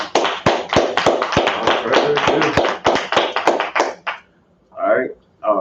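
An audience at a Wednesday biblical law class claps in a steady burst of sharp, close hand claps that stops near the end, followed by talking.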